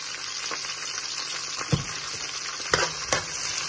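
Onions sizzle in hot oil in a pan at a soft, steady crackle, with a few utensil clinks and stirring scrapes breaking through.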